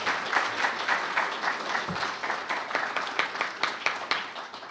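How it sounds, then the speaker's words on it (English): An audience claps steadily through the whole stretch after a speaker's thank-you at an evening event held in bad weather, a dense crowd of hands at even loudness, with no talking. "Go ahead and clap."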